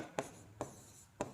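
Teacher writing on a board, with three short, distinct strokes spaced apart against a quiet room hum.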